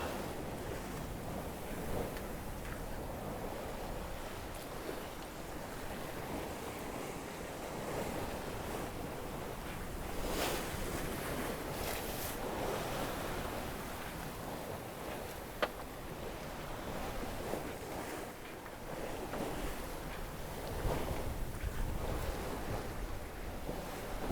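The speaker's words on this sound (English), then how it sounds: "Starting to take water over the deck again." Ocean waves rush and wash over a sailboat deck in the Bay of Biscay amid constant wind noise, with surges swelling and fading over a steady roar.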